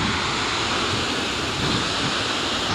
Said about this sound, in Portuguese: Então tá aqui a Cascata S.